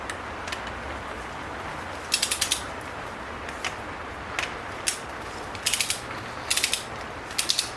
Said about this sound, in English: Grab your wrench.